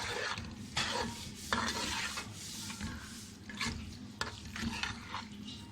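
Carrot halwa frying in a pan after the milk has dried off, stirred with a spoon that scrapes and knocks against the metal in uneven strokes over a soft background sizzle, nearby and without speech.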